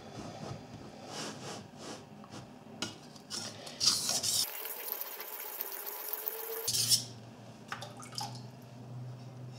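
Knife blade drawn in repeated strokes across a sharpening stone, producing soft scraping and gritty swishes at close range with some clinks in between.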